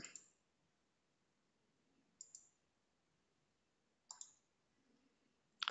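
A computer mouse clicks in a quiet room, with three quick double-clicks spaced a couple of seconds apart, close and crisp against near silence.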